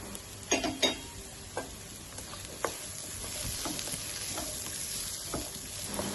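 Two finely chopped carrots stir-frying in a pan for Chinese rice, a quiet, steady sizzle broken by scattered clicks and scrapes of a spoon against the pan, with a few louder knocks early on.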